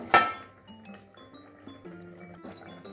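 A pan lid clinks sharply once at the start, then lighter metallic taps and rattles follow as the lid is lifted off a pot of soybean curry.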